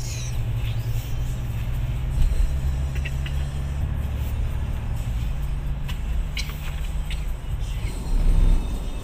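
Heavy traffic on the elevated Skyway toward the airport in Metro Manila, a steady low engine drone from inside a vehicle with faint clicks and occasional brake hiss.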